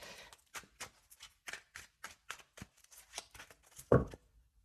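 Tarot cards are shuffled for a reading in a steady run of soft, close riffling flicks, about a dozen quick taps in under four seconds, ending with one louder slap; quiet room, no talk.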